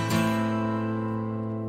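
A single acoustic guitar strum starts a three-beat 6/8 pattern; one bright stroke rings out and slowly decays, close and clear with no talking.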